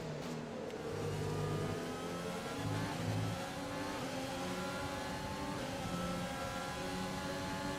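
Simulated Formula 1 race car engine in the F1 2020 video game, a continuous loud high-pitched whine that climbs and shifts with gear changes, steady and unbroken throughout.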